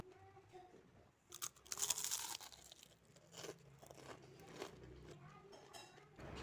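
Close crunchy bites and chewing on a crisp Indonesian vegetable fritter (bakwan sayur), with loud crackling bursts followed by softer munching.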